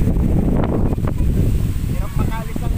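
Strong wind buffets the microphone in a steady, loud roar beside a river in the Philippines, with people talking faintly underneath.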